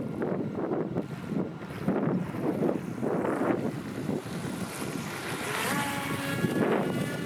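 An RC boat runs on a lake, its motor a faint whine under heavy wind buffeting on the microphone and lapping water, the engine note rising toward the end.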